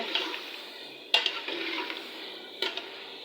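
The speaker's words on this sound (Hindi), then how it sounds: "ये दोनों चीज़ें मैंने एक साथ डाल दी हैं। थोड़ी देर इनको भूनते हैं।" Ginger-garlic paste and tomatoes fry in a pan with a soft, steady sizzle close by, broken by a couple of sharp utensil scrapes and clinks against the pan.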